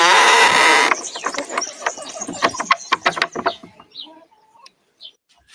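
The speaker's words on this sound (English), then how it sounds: "He's the father of most of the chickens here. He looks a sort. Gorgeous rooster. Rhode Island red." A Rhode Island Red rooster, father of most of the flock on a small Portuguese farm, gives a loud burst of noise and then a run of close, choppy clucks and short calls that fade out toward the end.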